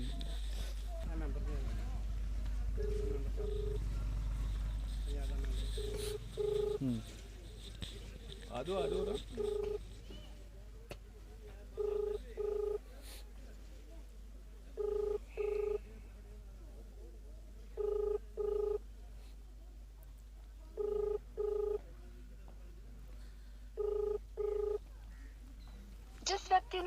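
A telephone ringback tone sounds in repeated double pulses every few seconds after a stretch of rumbling noise and brief talking at the start.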